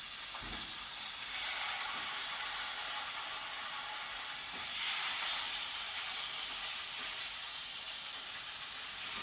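Meat browning in a hot pan, a continuous bright sizzling hiss at moderate level, with a few faint clicks and a gentle swell midway.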